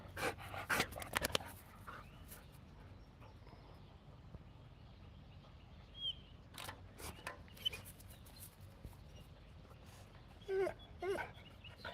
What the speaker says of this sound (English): Bunch of doggies.